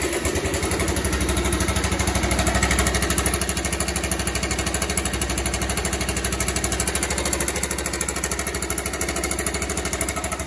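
Bajaj Pulsar 150 motorcycle, past 25,000 km, idling with a noisy timing chain, a steady rapid mechanical ticking rattle over the engine's low throb, close and constant throughout.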